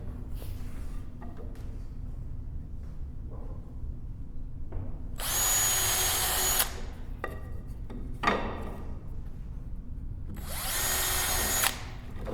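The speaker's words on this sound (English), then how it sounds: "I'm going to pre-drill this piece on the table." A power drill pre-drills a wooden chair piece on a table in two loud, sustained bursts of several seconds each. Quieter handling knocks and clicks come in between.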